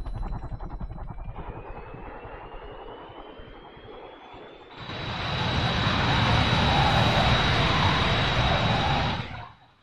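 A fixed-wing airplane engine in the military video game ARMA 3 drones at moderate level, then spools up sharply to a loud, sustained roar with a rising whine before cutting off abruptly.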